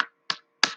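Three sharp, separate claps spaced evenly apart, each crisp and close, from children clapping along to a chant in a classroom, with no voices between them.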